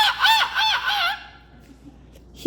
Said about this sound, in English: He could scream for hours and he's actually having fun.